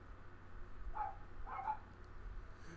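A few faint, short dog barks from Minecraft dogs, two quick yips close together in the middle, quiet and distant over a low steady hum.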